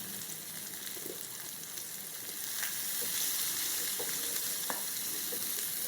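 Onion, green chillies and asafoetida fry in a pan with a continuous bright hiss that grows a little louder midway, with occasional soft stirring taps and no voices.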